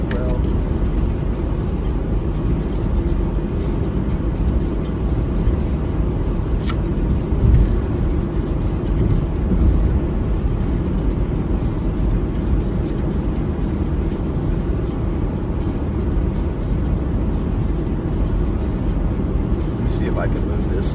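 Steady broadband road and engine rumble inside a car on a road trip into Denver, continuous and fairly loud throughout, with a person talking over it.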